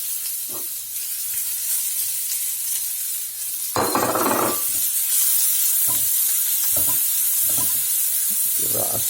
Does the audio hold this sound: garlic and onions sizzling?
yes